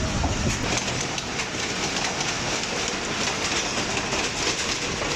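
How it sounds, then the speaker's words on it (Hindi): The Green Line Express, a 6 Down train hauled by a GO20 locomotive, passes Shahdara Junction close by with a steady loud rumble and rapid wheel clatter throughout, no voices. "और ये है GO20 के साथ 6 डाउन ग्रीन लाइन एक्सप्रेस पास हो रही है शादा जंक्शन से।"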